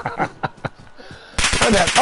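Video game gunfire: a few sharp separate shots at first, then a dense loud burst of rapid fire near the end, with talk mixed in.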